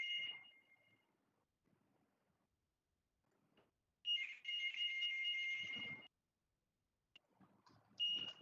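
A phone rings indoors in a few loud electronic tone bursts separated by quiet gaps, with brief faint rustling between them.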